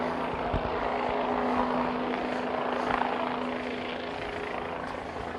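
A helicopter flies overhead above a Seattle city park during a police clearing of a protest zone, its steady rotor throb loud and continuous throughout, with a low droning hum and no talk.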